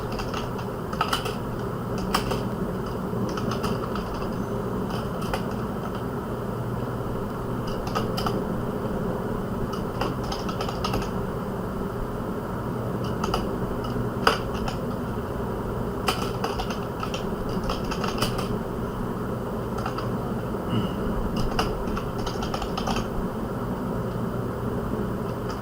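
Fingers type code on a computer keyboard, a continuous stream of quick clicking keystrokes in irregular bursts with brief pauses, close and clear, over a low steady background hum with no voices.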